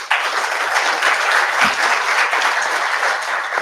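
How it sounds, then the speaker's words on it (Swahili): An audience at an arts event in Meru, Kenya breaks into loud, continuous applause, a dense wash of clapping that holds steady for several seconds without talk. "Makofi kwa mimi."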